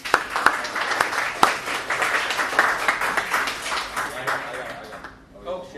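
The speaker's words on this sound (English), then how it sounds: "I want to give a round of applause to Johanny for all of his help on that as well." Applause and clapping from a group at a fantasy football league draft and season opening meeting, steady and fairly loud, with talk mixed in, fading toward the end.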